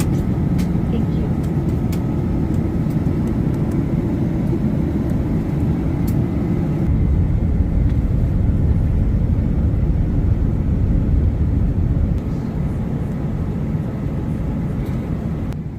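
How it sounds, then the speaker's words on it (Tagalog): Airliner cabin during descent to land, a steady loud low engine and air roar filling the space throughout, with a slight shift in tone partway and faint voices beneath. "Mafe-feel mo na kasi parang bumababa na yung eroplano."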